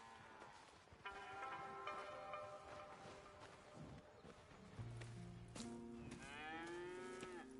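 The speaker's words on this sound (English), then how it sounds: "Here's the cows." Cattle lowing in the western video game Red Dead Redemption 2, several drawn-out moos in a row from different animals, close and clear over a quiet farm ambience.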